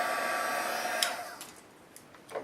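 A heat embossing tool blows hot air in a close, steady whoosh that fades out after about a second, followed by a few faint clicks and rustles in near quiet.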